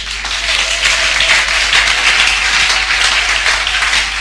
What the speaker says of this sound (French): est-ce qu'on peut applaudir pour na koyamba kaka?